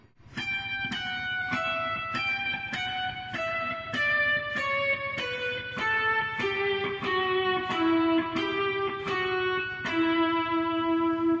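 A single guitar plays a stepwise melody from Pachelbel's Canon, one clear note at a time in a steady rhythm, gradually descending in pitch, with a slightly effected, sustained tone.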